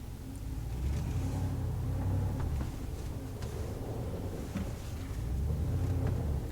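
A truck engine idles while warming up, a steady low rumble holding level throughout with faint clicks above it, no voices.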